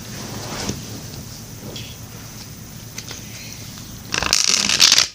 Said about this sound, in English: Let me go ahead and grab my first deck of cards and start shuffling for you.